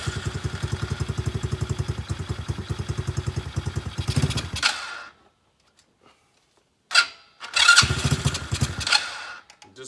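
A 110cc X-Pro Bolt motorbike engine with a fuel-delivery problem runs with a rapid, uneven putter, dies into near silence, then catches and revs again in a couple of loud bursts.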